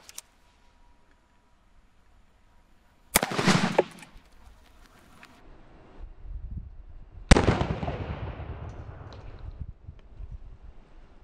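Two sharp, loud rifle shots from a 7.62x51 .308 POF Revolution strike level 4 body armor at 7 to 10 yards outdoors. Each crack rings into a long, rumbling decay, about four seconds apart.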